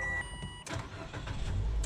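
A 2023 Mitsubishi Xpander GLS engine starts by push button: a quiet cabin hum, then a sudden broadband catch at about 0.65 s as the engine fires and settles into a steady close idle rumble, with no talking.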